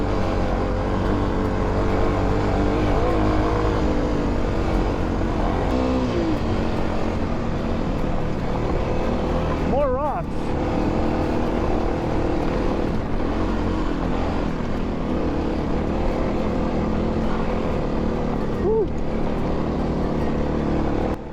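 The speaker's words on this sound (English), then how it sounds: "2nd gear, full throttle right now." A Kawasaki KLX250 dirt bike climbs a mountain trail in 2nd gear at full throttle, its engine droning loud and constant throughout with brief pitch wavers near the middle and later on.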